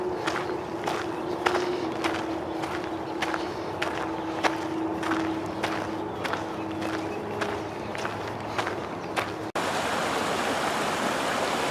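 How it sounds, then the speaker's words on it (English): A creek runs into the Colorado River in Yuma, Arizona, a steady broadband rush of flowing water partly under rhythmic music, then heard more plainly alone in the last couple of seconds. "Got a creek coming in, going right into the Colorado River."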